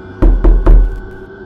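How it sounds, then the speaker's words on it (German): Someone banging against a door: three loud, heavy thuds in quick succession, close and resonant, with a short hollow decay after the last. "Er schlägt gegen meine Tür."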